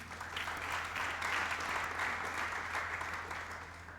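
A church congregation applauds together, a dense steady clapping that swells and holds for a few seconds before tapering slightly.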